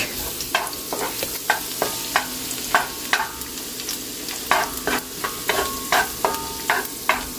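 Garlic frying in a pan for homemade fried rice, a steady close sizzle broken by repeated sharp scraping clicks of stirring at an irregular rhythm.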